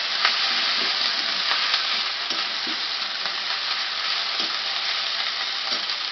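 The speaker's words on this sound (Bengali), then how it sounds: "মশলাটা আমি ভালো করে ভেজে নেব।" Coconut paste masala fries in a pan with a steady, close sizzle, broken by repeated scraping and tapping strokes from stirring, alone without speech.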